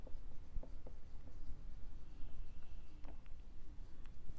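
Quiet scratching of pen or chalk writing on a board or paper during a class-7 maths lesson, in soft short strokes with small pauses between them.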